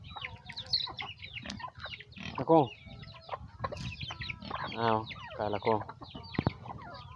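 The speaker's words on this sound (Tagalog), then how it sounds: "nandyan pa rin sila, yung mga rooster at saka yung mga inahin" Roosters and hens on a backyard farm clucking and crowing, with overlapping calls scattered throughout at moderate distance, while a person speaks briefly in between.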